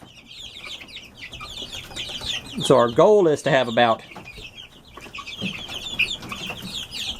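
Chickens, including Australorps, Rhode Island Reds, barred rocks and older hens, cluck and squawk close by, with a burst of loud rooster-like calling in the middle while someone talks briefly over the flock.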